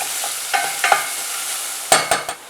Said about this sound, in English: next I'm adding onions, chopped onions, so I'm going to cook till the onions become translucent